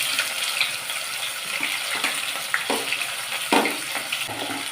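Onions sautéing in oil with spices for an egg biryani, a continuous close sizzle with occasional stirring clatters, no voices.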